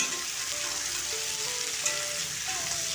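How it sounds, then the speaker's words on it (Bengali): Cauliflower frying together with soybean chunks in a pan for a curry, giving a steady, fairly loud sizzle throughout with faint clinks from stirring and no voices. "এরপরে ফুলকপিগুলো এর সাথে দিয়ে দিচ্ছি একসাথে আমি ভেজে নেব"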